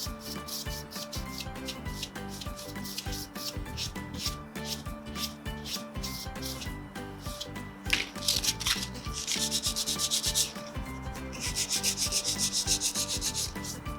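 Sandpaper of 220 grit rubs over a wood filler repair on furniture in steady, close back-and-forth strokes, with brighter, harsher passes toward the end.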